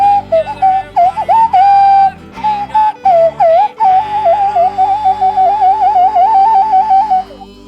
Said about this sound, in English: I got to get the Costa Rica hummingbird whistle.